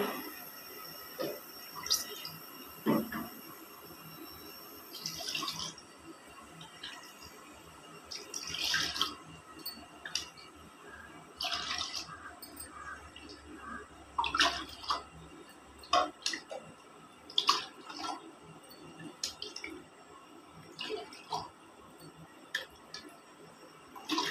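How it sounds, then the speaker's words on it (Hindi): Bowl after bowl of water poured into a heated kadhai, giving repeated splashes and trickles between quieter pauses, with clinks of utensils at moderate distance. "अब मैं इसमें एक कटोरी पानी डालूँगी"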